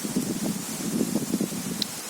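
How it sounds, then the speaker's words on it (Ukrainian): Steady wind noise rushes through an autumn forest in Rivne region, Ukraine, with soft, continuous rustling of leaves and no voices. "У нас сьогодні такий вітер."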